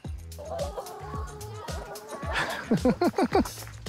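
Chickens cluck nearby, a run of short rhythmic clucks growing louder toward the end, with other fowl chatter and background activity around them.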